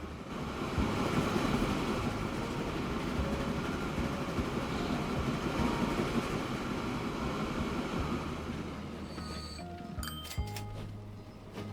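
A train in Transport Fever 2 rumbles steadily along the track as a continuous loud roar, easing toward the end with a few metallic clinks and brief squeals as it slows for a signal block.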